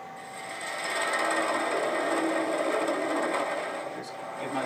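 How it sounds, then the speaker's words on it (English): A skew chisel cuts into wood turning on a lathe while shaping a shawl ring, a steady close scraping and whirring that swells louder in the middle and eases off toward the end. "I'm going to use a skew to get rid of some of this material and bring it around"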